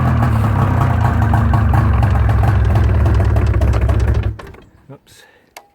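A 2003 Ski-Doo MXZ 600cc snowmobile engine runs with a loud, steady two-stroke rumble close by for about four seconds, then cuts out abruptly, leaving a few faint clicks and knocks.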